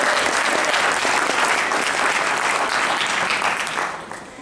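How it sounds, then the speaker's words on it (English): Enthusiastic applause from an audience honoring high school students at a school board candidate forum, a loud dense burst of many hands clapping that holds steady and then tapers off near the end. "Can we give our young people a round of applause?"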